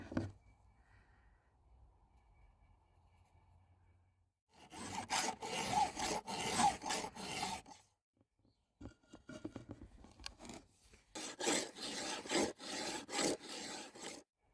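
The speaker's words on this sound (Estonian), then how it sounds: "Keti teritamisel peab ka viil terav olema." A hand file rasps along a chainsaw chain during sharpening, in two bursts of rapid, repeated strokes separated by brief pauses, with a quiet stretch before the first burst.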